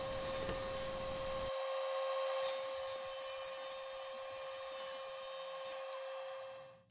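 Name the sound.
miter saw cutting wood pieces to length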